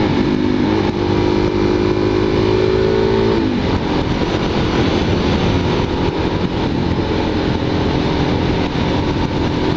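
A motorcycle engine roars continuously and close up as it rides a twisty stretch of Limecreek Road. Wind rush blends with the engine, and a rising engine tone is heard briefly early on.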